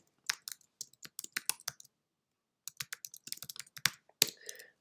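Keys clatter on a computer keyboard as a topic title is typed into the FlipGrid web tool. Two close, crisp bursts of quick irregular clicks are split by a short pause, with no talking.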